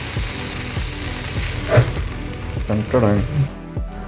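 Ivy gourd thoran with a little grated coconut cooks in a pan, sizzling while a spoon scrapes and stirs it in several close, uneven strokes, then the sound cuts off abruptly.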